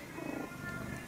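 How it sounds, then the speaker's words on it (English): A domestic cat purrs close by in a steady, soft rumbling drone, brief and alone. "That's my cat."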